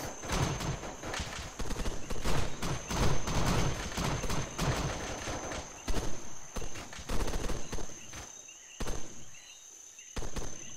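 Gunfire in the video game Arma 3, a rapid run of sharp shots and bursts with some louder cracks, continuing throughout with short gaps.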